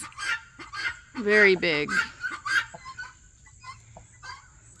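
Big, heavy Cochin chickens cluck and call in short, close bursts, with one louder honking squawk in the middle, and someone speaks briefly over them.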